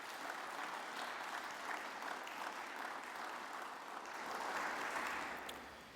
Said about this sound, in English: If I could just get a round of applause to Izzy and his people who come out here.